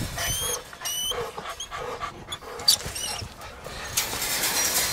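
A dog pants rapidly while hunting rats, with sharp squeals and whimpers over busy background noise and a voice talking intermittently.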